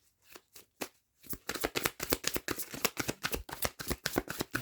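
Tarot cards shuffled and drawn, a few sparse soft flicks at first, then a fast rhythmic run of crisp riffling slaps, close and alone without talking.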